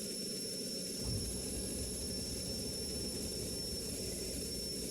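A jet engine in the combat flight game Strike Fighters 2, flying an RAF fighter, holds a steady, unbroken roar at even loudness throughout, with no voices over it.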